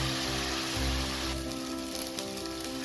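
Masala paste for mutton biryani fries in a pan with a soft, close sizzle and crackle. It stays fairly quiet and steady over a low background hum, with no talking.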